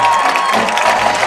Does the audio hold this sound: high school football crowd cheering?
yes